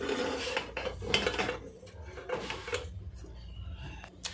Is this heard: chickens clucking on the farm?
no